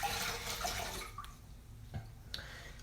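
Lukewarm water runs from a tap while facial exfoliant is rinsed off, a close, steady rush that thins out partway through, leaving a few small splashes and drips.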